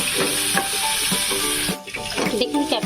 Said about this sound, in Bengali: ক্যাপসিকামটা দেওয়ার পরে আমি এটাকে একটু নাড়িয়ে নিয়েছি